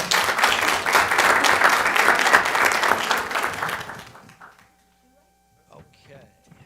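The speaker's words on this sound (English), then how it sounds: "Let's give them a round of applause." A full room applauds at a city council meeting in North Augusta, dense sustained clapping for about four seconds before fading out into near silence, followed by a few faint scattered sounds.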